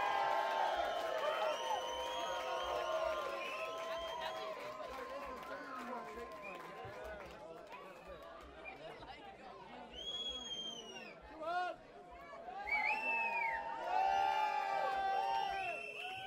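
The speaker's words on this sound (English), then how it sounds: "give a big round of applause" A festival crowd cheers, whoops and applauds for a band taking the stage at an outdoor music festival, a dense, sustained roar of many voices with shrill whistles and shouts rising and falling throughout.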